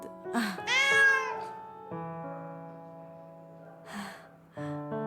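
A kitten meows in a few rising, tonal calls near the start and again briefly later, close and fairly clear, over a steady background of sustained musical tones.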